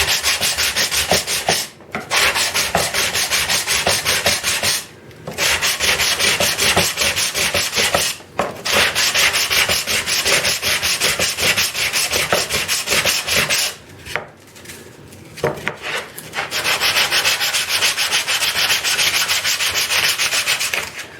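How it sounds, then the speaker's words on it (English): Sandpaper scuffs a wooden tool holder in long, continuous rasping strokes, loud and close, broken by a few brief pauses while the sanding shifts position. "go through and scuff everything really nice, take the surface dirt off"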